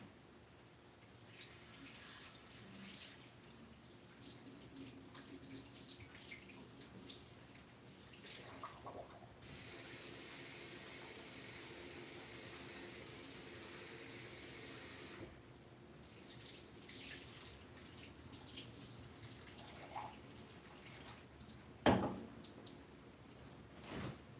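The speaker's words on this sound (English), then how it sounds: "Draining the lentils." Running water pours from a kitchen tap as lentils are drained in the sink. A steady broadband rush holds for several seconds, with quieter handling and faint clatter before and after, and one sharp clunk near the end.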